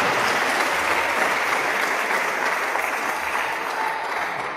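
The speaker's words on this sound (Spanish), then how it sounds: "Dale un aplauso al Señor con todo su corazón." A church congregation in Guatemala breaks into loud, sustained applause, a dense even roar of clapping that fills the room and tapers slightly at the end.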